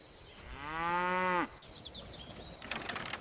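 A cow moos once, a loud drawn-out call of about a second that ends abruptly, followed by faint background sounds and quiet rustling.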